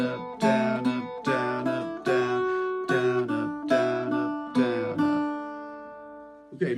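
Irish bouzouki picking the first line of the tune MacArthur Road, a string of bright plucked notes and strummed attacks in a steady rhythm, each ringing out before the next, played close and alone.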